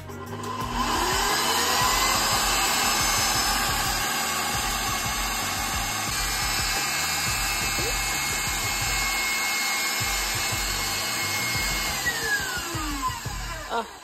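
A fast stand mixer beats bread dough in a steady, loud, continuous mechanical whir with a rising pitch that holds and then winds down near the end.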